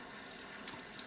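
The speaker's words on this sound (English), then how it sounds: "put this almost to the top with hot water" Hot water runs from a tap into a deep skillet for poaching eggs, a steady soft hiss of pouring water with faint splashes, close and continuous.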